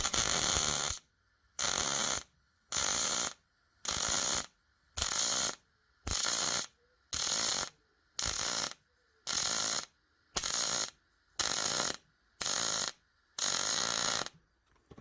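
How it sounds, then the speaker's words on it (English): A welder on a thin car body panel of a Range Rover, fourteen short evenly spaced bursts of crackling buzz separated by brief silences, close and steady, with no talking. "You'll hear the difference in the welder, the power of it"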